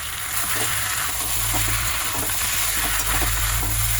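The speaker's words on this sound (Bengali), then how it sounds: "তো এটা ভালোভাবে আমি কষাতে থাকবো 10 মিনিট মতো" Chili powder and Kashmiri chili masala sauté in a pan, a dense, loud, continuous sizzle with faint stirring scrapes and no voices.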